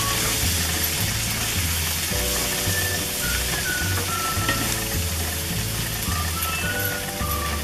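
Capsicum and potatoes fry with added spices in a pan, a loud continuous sizzle with light stirring, overlaid by a steady repeating background tone, close and without speech.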